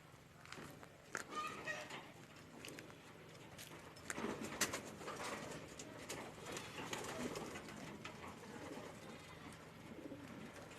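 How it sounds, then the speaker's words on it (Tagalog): A racing pigeon named Onyok, a small lap-winning bird just back from a fun race, coos softly amid steady background bustle, scattered footsteps and other bird sounds, with people talking nearby. "Papakita ko sa inyo yung nag-lap winner na ibon natin"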